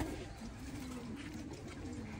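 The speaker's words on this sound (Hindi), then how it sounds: "अब आपको दिखाऊंगा इसकी कबूतरी।" Pigeons give low, throaty coos in a soft rolling rhythm, repeated several times at close range over a steady background hum.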